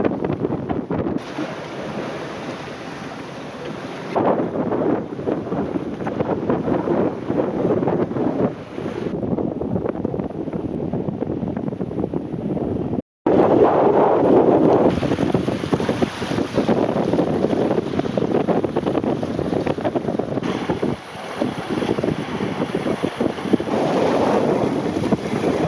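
A sailboat runs on a single-handed coastal passage between Scarborough and Blyth, with continuous loud wind buffeting and rushing water around the hull throughout, broken by one brief dropout, and no one talking.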